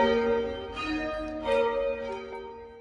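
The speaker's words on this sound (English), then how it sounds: "Bells toll for anti-apartheid icon Desmond Tutu, warrior for justice." Church bells toll in mourning for Desmond Tutu, several overlapping resonant strikes ringing out with long humming decays, heard alone at moderate distance.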